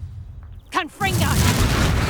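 A Confringo blasting spell bursts in Hogwarts Legacy, a short sharp explosive boom rising over a low rumbling game backdrop, followed by continuing ambient noise and a brief voice.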